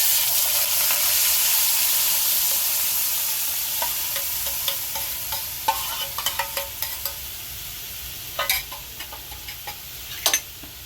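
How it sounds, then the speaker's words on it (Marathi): Spices, red chilli, coconut, ginger and garlic fry in hot oil for a tempering, giving a steady close sizzle with scattered pops and crackles that grow more frequent later on. "मसाले ना, लाल मिरची, खोबरं, आलं, लसूण हे सगळं याच्यामध्ये फोडणीला टाकायचं"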